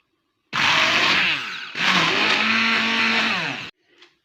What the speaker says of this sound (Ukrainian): і зараз я його переб'ю разом е, ручним блендером